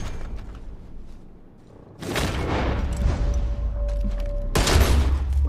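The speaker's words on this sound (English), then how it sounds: "I shot at the same time he shot." Gunfire in the video game Red Dead Redemption II: two sharp, loud shot bursts a few seconds apart, each trailing into a reverberant rumble over quieter game ambience.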